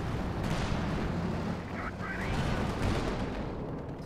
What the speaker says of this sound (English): All I hear around is explosions and cracks.